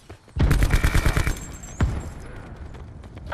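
A Black Ops 4 sentry gun lets off a rapid, close burst of automatic fire, followed by a single heavy shot and a fading tail, with no talking.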